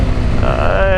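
A Hero Xpulse 210 motorcycle pulls away, its engine note rising in pitch over a second, close and fairly loud.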